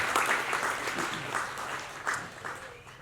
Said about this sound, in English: Come on, a big round of applause for Cosy there on a great speech.